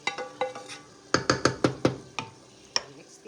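A utensil stirs cooked-down onions in a pan for French onion soup, making a quick run of rhythmic knocks and scrapes against the pan, close and fairly soft.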